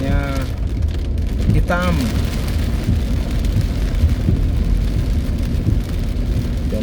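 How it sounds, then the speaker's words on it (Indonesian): Heavy morning rain pours steadily over a traffic jam, a dense hiss with passing vehicle rumble beneath, while someone speaks over it. "dan hujannya semakin besar."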